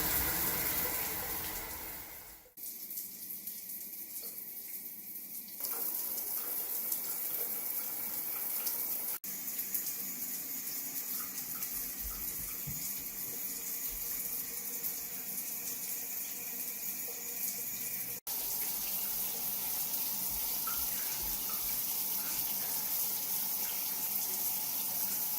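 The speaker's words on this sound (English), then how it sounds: "Turn it on slowly at first because there might be some gunk." A high-pressure shower head with its flow restrictor removed sprays water steadily for the whole stretch, a loud continuous hiss and rush with a brief change near the start.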